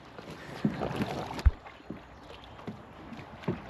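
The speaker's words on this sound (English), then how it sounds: "I feel like I'm doing the paddling here." Paddle strokes splash and gurgle in water from a small boat, a few irregular dips with wind noise in the background.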